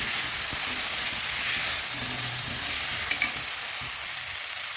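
Chopped tomato sautéing with onions in a hot pan for egg curry, producing a dense, steady hiss of frying with occasional stirring, close up and without speech.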